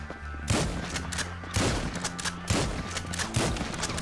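Four evenly spaced shotgun blasts in GTA Online, each a loud booming crack with a rumbling decay, alone without speech.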